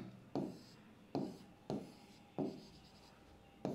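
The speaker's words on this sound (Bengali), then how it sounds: "তাহলে এই আমার ইউটেরাস, শর্টে আঁকছি" Marker or chalk strokes on a board while a simple uterus diagram is drawn: five short, scratchy rubbing strokes in a steady rhythm, close and fairly quiet, with no talk.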